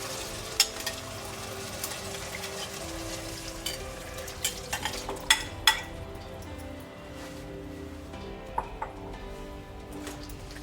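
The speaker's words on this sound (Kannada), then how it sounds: "ಇದು ಈರುಳ್ಳಿ ಜೊತೆಗೆ 1-2 ನಿಮಿಷ ಬಿಸಿಯಲ್ಲಿ ಹಾಗೆ ಫ್ರೈ ಆಗಲಿ." Pressure-cooked mutton with salt, turmeric and chilli powder frying with onions in a pan, a soft steady sizzle broken by sharp stirring clinks and scrapes of a utensil against the pan, close and without talk.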